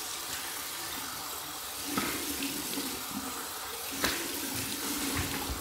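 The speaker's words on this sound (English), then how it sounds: "now we're gonna go with our cold water rinse." Cold water pours from a bathroom sink tap for a rinse after a shave, a steady close splashing stream broken by a couple of sharp splashes as hands dip in.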